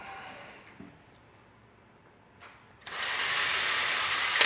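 A power drill whirs up after soft handling noises and runs steadily and loudly for the last second and a half, with no talk, on a painted end table being finished.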